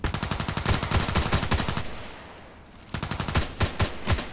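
Rapid bursts of gunfire in a shooter video game featuring an HK417 rifle, close and loud, with fast repeating shots, a short lull, then more spaced shots.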